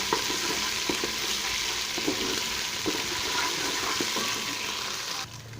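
Onion with ginger-garlic paste frying in a pan, a steady close sizzle with occasional stirring scrapes and clicks throughout, no talking.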